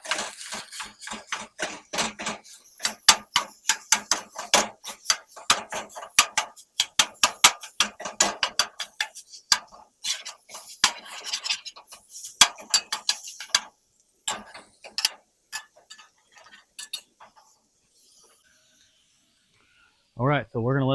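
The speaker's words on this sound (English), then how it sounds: "we'll start cutting this sausage up to break it up" A metal spatula chops sausage in a skillet on a Coleman 413G camp stove, a rapid series of sharp scraping clacks that thin out and stop, followed by silence and a brief voice at the end.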